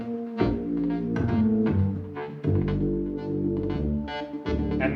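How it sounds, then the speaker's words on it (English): A virtual-instrument synth bass plays with a step sequencer layered on top, giving choppy, rhythmic pulses of notes that shift in pitch. The sound is steady and close, with no speech. "And then we add the step sequencer."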